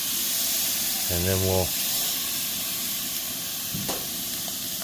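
Baby back ribs sear on a Blackstone griddle, a loud, continuous hiss that stays steady throughout, while someone speaks briefly over it.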